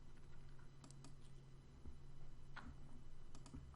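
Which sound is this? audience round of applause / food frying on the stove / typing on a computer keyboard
typing on a computer keyboard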